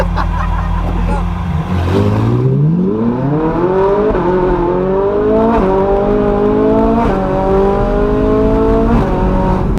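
A loud car engine revs steadily higher as the wheels spin without traction, its pitch climbing and then holding at a strained, high whine.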